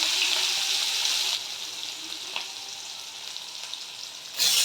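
Chopped onion hits a pan already holding cumin tempering and fries with a loud, steady hiss that drops to a softer sizzle partway through and swells again at the end; no speech.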